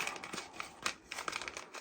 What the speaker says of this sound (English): Paper airplane this bad boy.